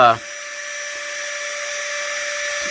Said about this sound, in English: this is an aluminum style cutting burr, guys, so it's a little bit more coarse